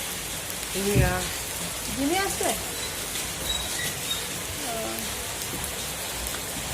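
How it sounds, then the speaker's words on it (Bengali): Heavy monsoon rain pours down in Mumbai, a dense steady patter heard close by, while a person speaks briefly over it. "বৃষ্টি কেমন পড়ছে দেখো, ঝরঝর করে পড়ে যাচ্ছে"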